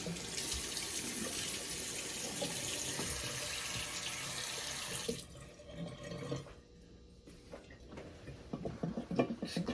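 Running tap water splashes steadily into a sink as a Parker 78R safety razor is rinsed, then the flow stops, leaving a few faint drips and handling sounds.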